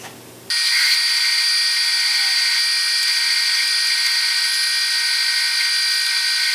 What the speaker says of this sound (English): so just more of the same drilling